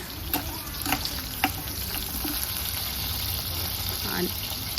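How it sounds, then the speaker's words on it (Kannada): Onions fry in hot oil in a pan for a Mandya-style sprouted-bean sambar, giving a steady close sizzle with occasional stirring clicks. "ಆಯಿಲ್ ಬಿಸಿ ಆದಕ್ಕೆ ಈರುಳ್ಳಿ ಹಾಕ್ಕೊಳ್ಳೋಣ"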